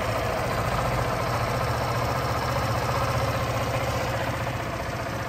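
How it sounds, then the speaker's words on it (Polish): A 2019 Barton BMAX 125 scooter engine idles with a constant, even, close hum and a low steady drone that does not change over the whole stretch, with no voices. "No i teraz zachęcam do posłuchania silniczka, jak to pracuje, czy chodzi równo."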